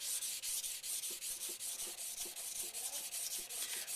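Steady rhythmic scraping of a Takeda knife blade ground against a sharpening stone, repeated strokes about every half second, close and continuous with no talk.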